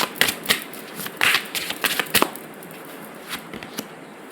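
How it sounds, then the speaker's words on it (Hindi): Tarot cards shuffled by hand, a run of quick papery riffles and flicks in the first half-second and around two seconds, then a few faint single card snaps as cards are drawn, close and fairly quiet with no talking. "तो उसके लिए भी हम कार्ड निकाल लेते हैं"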